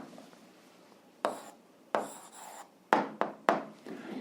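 A pen writes an algebra answer by hand on paper in short scratchy strokes, several quick separate marks close to the microphone in a quiet room.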